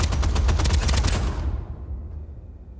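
A loud, steady stream of LMG machine-gun fire in Starsiege Deadzone rattles for about a second and a half, then stops abruptly and leaves a fading low rumble.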